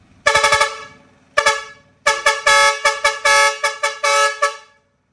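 A vehicle air horn plays together with a horn module, firing a long series of loud, close blasts of varied length: a quick burst of short toots, a pause, then sustained and choppy honks ending abruptly.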